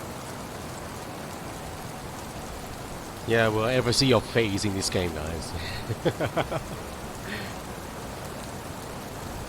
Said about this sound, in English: It is raining pretty horribly right now.